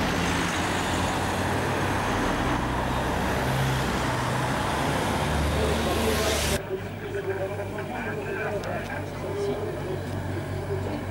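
Opening vehicles ahead of an Elite-category cycling race at Le Pertre pass by with a steady roar of engines and road noise, which drops off sharply partway through, while a commentator talks throughout.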